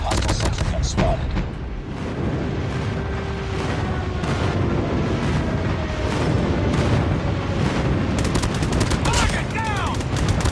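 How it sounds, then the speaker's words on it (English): Friendly airstrike explosions boom and crackle continuously in a combat video game, a loud, dense wall of blasts and gunfire with rapid sharp bursts near the end and occasional game voice callouts. "Friendly airstrike incoming."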